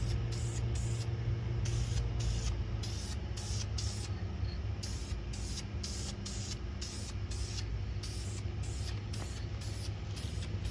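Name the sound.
spray paint can spraying engine parts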